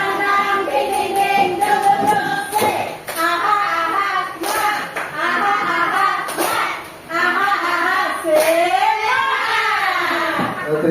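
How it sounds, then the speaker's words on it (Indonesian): A group of people, likely in a classroom or workshop, doing a tepuk semangat, rhythmic patterned clapping chanted along with voices, loud and close in several repeating rounds. "Nah, tepuk semangat."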